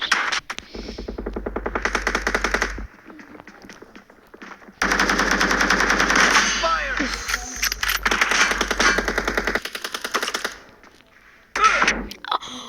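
Video game gunfire rattles in rapid automatic bursts, loud and close, broken by short pauses, with scattered impact sounds between volleys.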